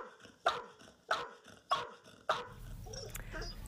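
A dog barks four times in a loud, evenly spaced series, each bark sharp and close, followed by a softer whimpering whine.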